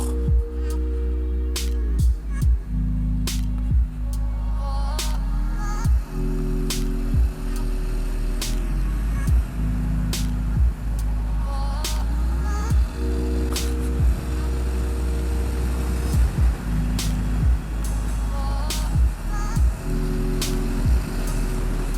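Honda NC750X DCT 2019 motorcycle with a steady engine drone, its pitch stepping up and dropping back repeatedly as the dual-clutch gearbox shifts at 5500-6000 rpm, with sharp clicks at each change.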